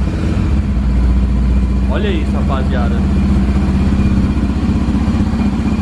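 A Honda XRE 300 motorcycle fitted with a Coyote exhaust and no air filter idles steadily and loudly nearby, a continuous low throb running throughout while someone speaks briefly over it.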